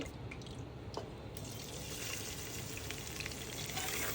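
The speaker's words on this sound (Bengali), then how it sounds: "ভালো করে পেঁয়াজটাকে ভেজে নিব" Chopped onions sizzle steadily in hot oil in a pressure cooker, a continuous close frying hiss with faint bubbling, heard alone.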